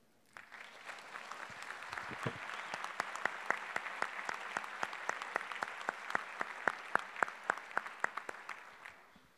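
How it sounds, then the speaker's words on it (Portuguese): At the inauguration of São Paulo's new state governor, the audience applauds in a broad, sustained wave of clapping, with sharp individual claps standing out near the mics, rising in, holding steady and tapering at the end. "Podem aplaudir."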